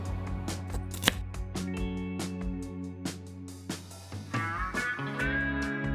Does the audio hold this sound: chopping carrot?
yes